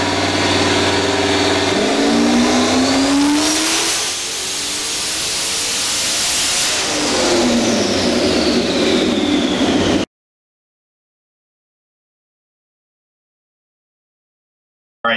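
A turbocharged LS V8 in a Foxbody Mustang on a dyno roars at full volume, climbing through a long sustained pull, dipping briefly, then screaming back up before cutting off abruptly into silence.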